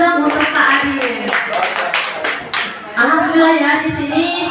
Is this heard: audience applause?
yes